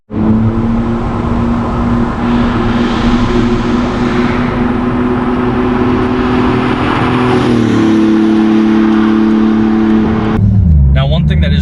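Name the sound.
2018 Porsche GT2 RS engine while driving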